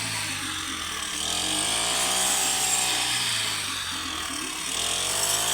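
A brush cutter cuts rice stalks at harvest in a Lao paddy field, its small engine droning loud and close, the pitch swelling and dipping as the blade bites.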